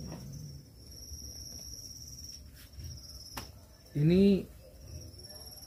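Crickets on a cricket farm keep up a steady, thin high-pitched trill throughout, with a brief burst of speech near the end.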